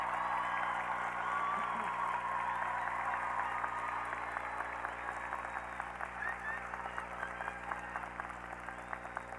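Sustained applause from a large audience at a Seton Hall University baccalaureate commencement ceremony in 2013, as families and supporters are honored; steady, dense clapping filling a big hall throughout.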